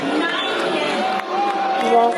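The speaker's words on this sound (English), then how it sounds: "She's being booed off the stage" A crowd at the 90th annual Old Fiddlers Convention in rural Virginia boos a speaker on stage, a steady loud wash of jeering voices with no breaks.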